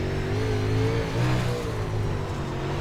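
Simulated UMP Modified race car engine at Lanier in iRacing, a steady loud drone with rising and falling revs as the car accelerates, continuous and close with no talk.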